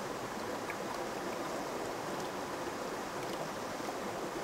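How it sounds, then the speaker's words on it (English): A water sample is poured into a VOC vial during water-quality sampling, a steady close splashing trickle that runs unbroken throughout with no voices. "We then pour the sample into the VOC vial, making sure that we don't pour any excess water over the side."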